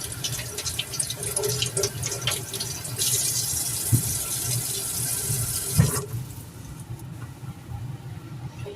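Baby Bella mushrooms are rinsed under a running kitchen tap, giving a steady splashing water hiss with a few louder knocks before the flow drops off and quieter dripping and handling follow.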